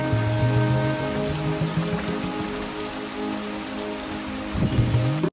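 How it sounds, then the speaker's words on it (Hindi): Steady rain pours down in a continuous broadband hiss, with a low hum running underneath throughout. "मैं दोस्तों वेट कर रहा हूँ कि कब बारिश बंद होगा"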